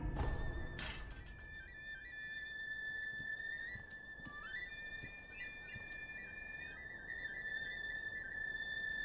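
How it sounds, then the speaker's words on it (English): A whistle in the Sekiro video game sounds as a long sustained high tone with wavering pitch steps, preceded by a brief sharp clatter and followed by faint background game ambience. "Whistle, whistle, whistle."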